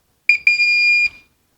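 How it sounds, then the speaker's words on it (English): An electronic hotel door lock, tapped with an authorization card, gives two short beeps and then one long, clear, steady beep, close and alone. "and you hear the long beep."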